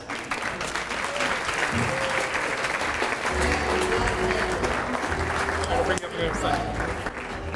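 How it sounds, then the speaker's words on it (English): Audience at a stand-up comedy show breaks into loud, sustained applause with scattered cheers, a dense wash of clapping filling the whole stretch as a voice speaks over it. "Give yourselves a round of applause."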